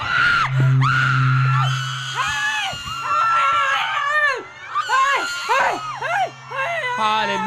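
A worship crowd at a prophetic gathering shouting and screaming together, loud and continuous with many overlapping wailing and yelling voices, close and dense throughout.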